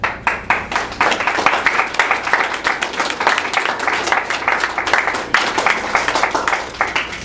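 Sustained, lively applause follows a reading at a Helicon West literary event. Many hands clap close and loud for several seconds, with distinct individual claps standing out in the dense crowd sound.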